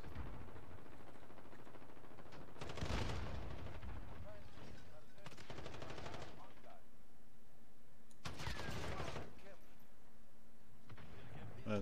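Bursts of heavy gunfire in Call of Duty: Modern Warfare (2019) multiplayer come in a few separate volleys, booming and crackling, spaced several seconds apart with quieter stretches between.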